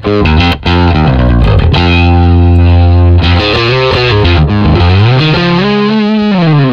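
A Rickenbacker bass played through heavy distortion on an HX Stomp XL effects unit, with loud, sustained, buzzing notes and chords that shift pitch over several seconds with no talking.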